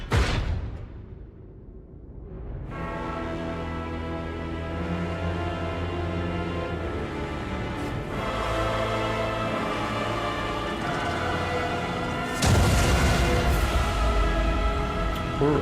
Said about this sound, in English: If anyone knows how to avoid that explosion air attack other than just running away